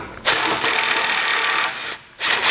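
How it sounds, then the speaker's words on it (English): Socket wrench backing out a 15 mm bolt on an underbody panel of a 2017 Chevrolet Colorado, a steady close ratcheting, scraping rasp lasting over a second, a brief pause, then another short burst. "remove our 15 millimeter socket, or our 15 millimeter bolt right here with our 15 millimeter socket"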